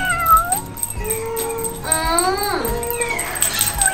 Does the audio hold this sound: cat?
yes